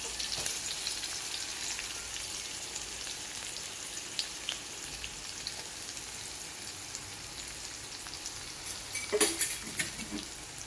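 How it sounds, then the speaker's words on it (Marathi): Onion frying in hot oil for egg bhurji gives a faint, steady crackling sizzle, with a brief louder clatter of stirring near the end and no talk. "तेल तापल्यावर कांदा हा टाकायचा।"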